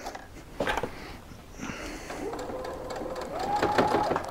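A sewing machine stitching a weighted blanket filled with poly pellets, running in a short burst that builds to a steady whirring hum, with a few clicks and handling noises before it starts.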